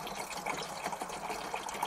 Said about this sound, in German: Ich fülle auf bis 10 Liter.